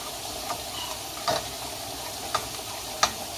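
Flour sizzles gently in a pan of fat as it is stirred for a béchamel sauce, a steady low hiss broken by a few light spoon taps against the pan, close and with no talking.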